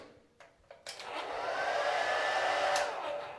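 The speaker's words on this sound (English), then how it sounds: "And then we have a hairdryer," A hotel bathroom hairdryer clicks a few times, then switches on and blows with a steady, fairly loud whir that holds for several seconds, alone without speech.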